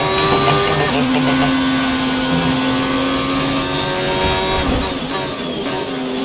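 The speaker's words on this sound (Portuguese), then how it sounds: "Não sei se tá dando pra vocês ouvirem o barulho do carro batendo no chão" An F1 2019 racing game car scraping its floor along the track, a loud, steady engine whine with a grinding scrape beneath it that persists throughout, with no talking.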